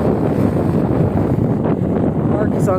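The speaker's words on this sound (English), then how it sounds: "It's a bit windy today." Steady wind buffets the microphone in a loud, continuous low rumble across a barley field during harvest, with faint talk mixed in underneath.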